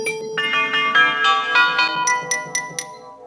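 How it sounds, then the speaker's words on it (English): Software bell samples played in Ableton ring out as a rising run of bright, chiming tones, struck one after another with a shimmering sustain and close, clear tone. "Let's look at some bells here."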